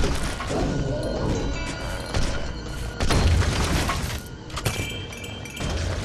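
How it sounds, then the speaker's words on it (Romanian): Explosions and crashing impacts from the zombie shooter Zombotron 2: Time Machine, with dense bursts and booms across a loud, busy game mix and heavier blasts near the middle. "A, explozii, dulci explozii."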